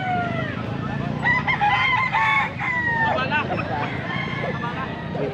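Bull stag roosters crow repeatedly at a Pampanga poultry market, several birds overlapping in loud, close calls over a constant crowd hubbub and voices.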